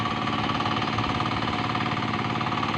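A diesel engine on a rice paddy farming machine hammers loudly and close with a fast, even knocking rhythm, steady throughout with no voices.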